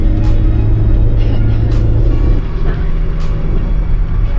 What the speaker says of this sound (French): on est dans la voiture de Maroun